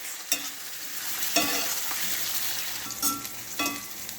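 Jamaican tinned mackerel with cucumber sautéing in a pan, giving a continuous moderate sizzle broken by a few scraping stirs at uneven intervals, no voices.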